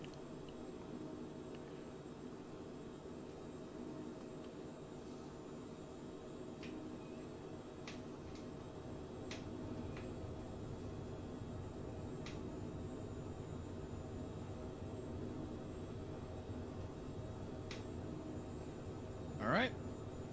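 Phenom 100 light jet engines spooling up on a short-runway takeoff roll in a flight simulator, a steady broadband roar holding level under a commentator's voice, with a few faint clicks and a brief chirp near the end.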